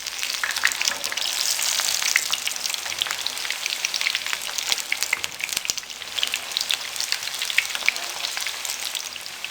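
Moong dal tikkis (lentil patties) browning in hot oil, giving a steady, dense sizzle with crackling pops throughout, close and continuous with no talking.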